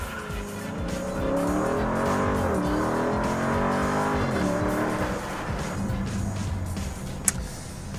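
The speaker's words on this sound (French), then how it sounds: "t'as burné avec les roues avant bloquées" A test car launching in a burnout with the front wheels locked, engine roaring steadily with spinning-tire noise throughout, close and loud, plus a brief sharp click near the end.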